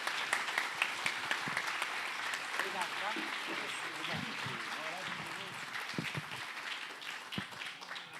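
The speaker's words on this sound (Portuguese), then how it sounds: "Já pode bater palmas." An audience claps at a literary event with Angolan writer Ondjaki, a moderately loud round of applause that carries on throughout while voices talk and call out over it.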